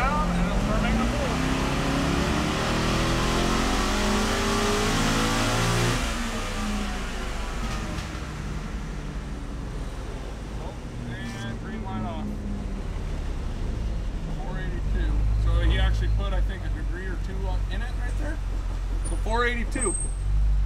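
A wrecked Corvette's engine revs up on a chassis dyno during a pull, a loud close roar that climbs in pitch, then eases and builds again, with voices talking over parts of it.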